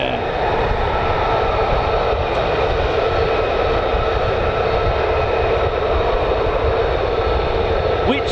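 A US Air Force F-15 or F-35 fighter jet flying near RAF Lakenheath, heard as a steady, loud broadband jet roar that holds evenly for the whole stretch.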